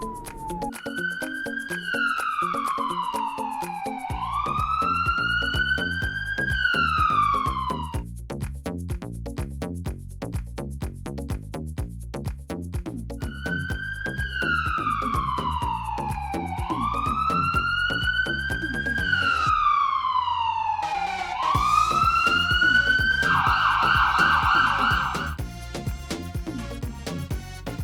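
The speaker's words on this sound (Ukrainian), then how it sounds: "Це швидка допомога." An ambulance siren in a children's cartoon wails, rising and falling in long sweeps, loud and continuous, later shifting to a faster yelping pattern.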